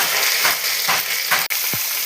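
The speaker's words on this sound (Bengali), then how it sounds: "আদাটিকে আমি তেলে ভেজে নেব" Crushed ginger with two dried red chillies frying in a little oil in a pan, a steady sizzle with soft stirring scrapes and a brief metallic clink, close and alone.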